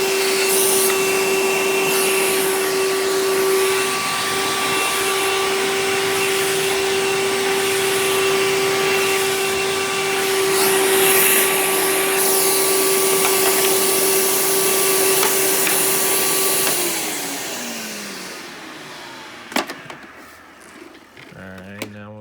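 A Hoover Power Drive Supreme U6323-930 upright vacuum cleaner runs with a loud, steady motor whine, then winds down and stops, followed by a few faint clicks and handling noises.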